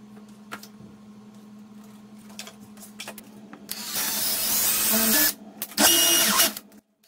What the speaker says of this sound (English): I drilled holes in the wall and connected the board using hammer plugs.